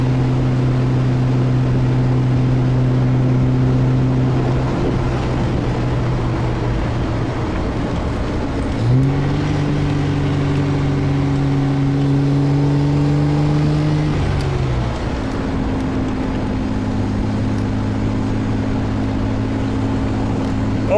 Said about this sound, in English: This car really drives beautifully. It's the way these cars were meant to run.